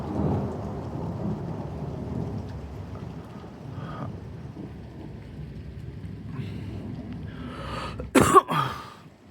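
A thunderstorm over Elyria brings a steady wash of rain with low distant rumbling, then a sudden loud crack of thunder near the end that fades into rolling echoes.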